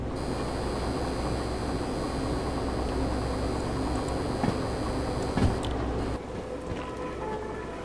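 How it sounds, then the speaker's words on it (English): A freight train in the Derail Valley train game drags along with its parking brake applied, giving a steady, loud, broadband grinding hiss that continues for several seconds, then drops in level toward the end. "That sounds like a parking brake"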